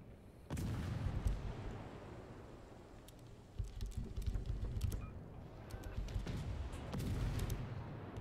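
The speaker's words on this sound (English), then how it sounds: "we'll start firing on this guy" Naval artillery fires in the video game World of Warships, heavy booming salvos landing at intervals among creaking, clicking in-game mechanisms and keyboard taps, with a low rumbling bed throughout.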